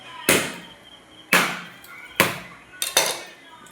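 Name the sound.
beating grated coconut in a bowl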